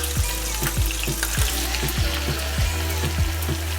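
Onion, ginger and garlic paste frying in a pan after whole garam masala has been toasted, sizzling steadily and close with repeated soft stirring scrapes, no talking.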